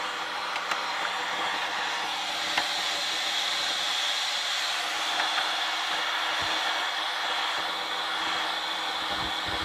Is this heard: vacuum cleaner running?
yes